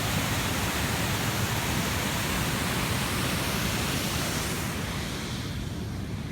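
Tat Chanan Waterfall in the Phu Wua wildlife sanctuary, Bueng Kan, Thailand, gives a steady, dense roar of falling water heard up close. The rushing wash is continuous and loud throughout, with no voices.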